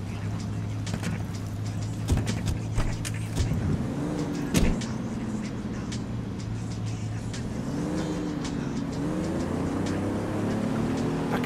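A car driven in Ghost Recon Wildlands, a steady engine drone with shifting revs and occasional clunks and rattles, while people talk over it.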